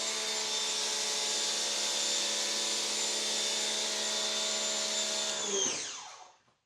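Raincovo Snow Pro foam cannon on a pressure washer sprays mega foam with a steady, loud motor-driven hiss and whine that holds evenly, then cuts off and winds down to silence at the end.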